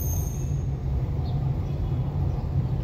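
Raml tram moving along an Alexandria street near Mohamed Mahfouz station, heard from a passing car as a continuous low rail rumble with a faint high whine and a brief squeal, steady and moderately loud, no talk.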